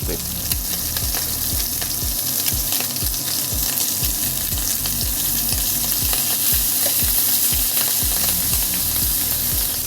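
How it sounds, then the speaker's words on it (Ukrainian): Salted shrimp frying in a hot pan, a loud continuous crackling sizzle with a steady run of quick rhythmic clicks underneath, close and dense throughout with no talk. "З одної сторони наша креветка вже обсмажилась"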